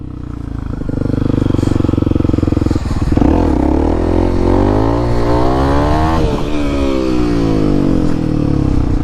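A motorcycle revs hard and accelerates in first gear, its engine note climbing and falling through loud, close, rising sweeps on a warm day.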